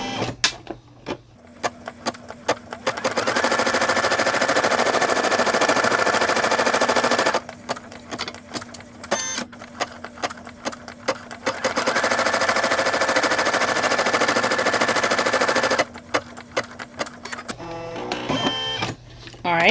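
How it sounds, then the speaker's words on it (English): Embroidery machine sewing applique placement stitches onto vinyl fabric in the hoop, a loud rapid mechanical chatter running in long bursts with brief pauses between runs. "Our very first color stop is going to be our placement stitches for our vinyl fabric. Okay, so let's go ahead and stitch that out."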